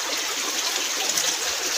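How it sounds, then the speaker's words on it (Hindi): A mountain-fed stream flows steadily beside a village street of shops and houses, a loud, continuous broadband rush and trickle of water close by with no voices. "ये पानी बह रहा है आप शहर का, पहाड़ों से पानी आता रहता है"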